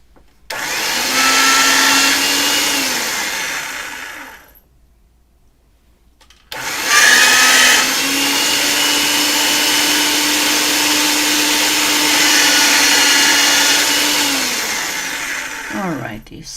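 A Makins clay machine rolls polymer clay on setting number 2 with a steady motor whine, running in two long stretches split by a few seconds of silence, loud and close, then stopping with a brief rattle.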